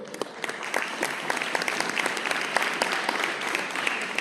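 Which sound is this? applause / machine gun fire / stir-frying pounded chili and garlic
applause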